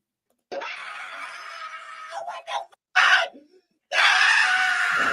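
Screaming from people in a played-back clip, loud and strained, arriving in long bursts broken by short silences, with a final sustained scream at the end.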